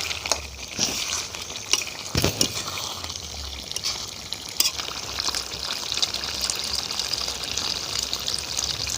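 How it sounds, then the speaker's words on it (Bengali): Water is poured into a chicken curry in a pan where the spices have released their oil, a steady liquid hiss and sizzle continuing throughout with a few brief knocks. "দেখুন এবার আমি একটু অল্প করে জল দেব।"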